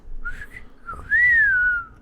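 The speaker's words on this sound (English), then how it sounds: "that was a really loud whistle" A single loud whistle rises and then holds a steady, bright tone for about a second, close to the microphone, after softer breathy whistled notes and with nobody talking.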